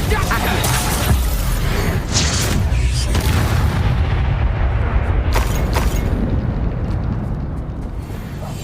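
The Incendio fire spell is cast in Hogwarts Legacy, a sustained, loud, roaring blast of flame and booming impacts, with voices talking over it.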